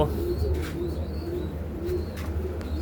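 Pigeons coo softly in low, repeated throaty calls, with faint chirps and a murmuring background.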